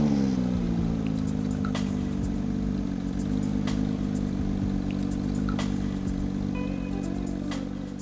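Porsche 911 Speedster carrying the 402-horsepower GT3 flat-six, cruising with the top down on a coastal highway, giving a steady, even engine drone with light clatter throughout and no speech.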